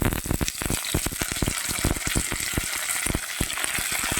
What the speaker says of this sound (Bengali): এবারে দেখো পেঁয়াজগুলো প্রায় আমার ভাজা হয়ে এসেছে লাল লাল হয়ে এসেছে